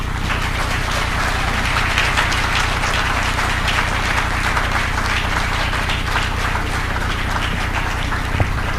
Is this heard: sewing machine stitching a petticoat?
no